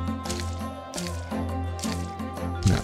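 Wet squishing and dripping splashes from crops being watered in the farming video game Cornucopia, repeating in a steady rhythm over a constant sustained musical background.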